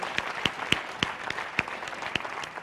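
A quiz competition audience gives a short, sparse round of applause, a few scattered claps spaced out over a couple of seconds rather than a full ovation.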